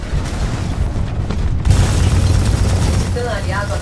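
An allied titan is destroyed in the multiplayer shooter Titanfall 2 with a loud, booming explosion amid ongoing battle noise. A voice speaks throughout.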